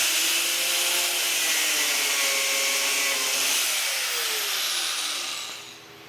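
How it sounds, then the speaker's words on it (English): Cutoff tool slicing through heavy electrical cable during a Cummins 6BT diesel conversion of a 1941 Dodge Power Wagon, a loud continuous high-pitched grinding whine that holds steady, then winds down near the end. "what I found the best way to do is just to cut it with a cutoff tool."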